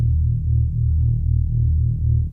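A speed garage wobble bass synthesized in Vital, loud and deep, pulsing in a fast, regular wobble that repeats evenly with no other sounds.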